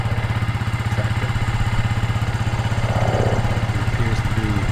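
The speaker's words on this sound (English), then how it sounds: "So I've given Aiden instructions to start the ATV and empty the brush off the wagon" ATV engine on a breezy farm property running at a steady idle with a rapid, even mechanical putter and light clatter, loud and close, with no start-up burst evident.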